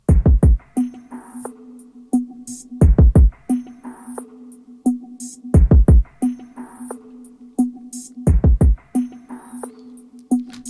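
A kick drum driven hard through an NLS analog channel saturation plugin, hitting in four-on-the-floor bursts of heavy, punchy low thumps with a sustained low tone ringing between groups, loud and alone with no voices.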